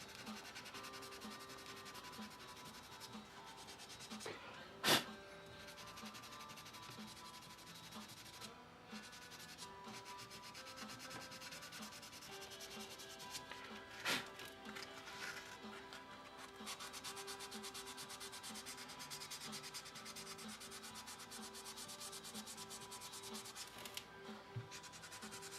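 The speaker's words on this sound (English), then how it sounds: "Forgot I did some putty work here yesterday, I forgot to sand it down." Steady hand sanding of putty on a painted custom action figure, a continuous soft rubbing scrape with a couple of sharp clicks, close and quiet.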